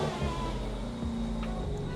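Car engine cranking and catching in sport mode on a rebuilt salvage car, a steady low rumble with a brief rev swell, heard close and alone.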